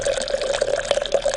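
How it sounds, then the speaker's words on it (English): Spirits being poured into a punch, a short, close, steady trickle of liquid lasting just over a second. "we're going to pour 3 ounces of this."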